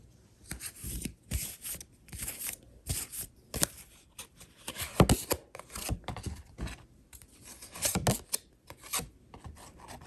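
Tarot cards are shuffled by hand in repeated quick riffling bursts and soft rubbing, close up, with short pauses between rounds.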